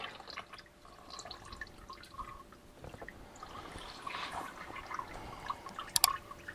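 Old engine oil drains from a 2018 GMC Terrain during an oil change, a faint, steady trickle and drip of liquid close by, with small clinks and splashes near the end.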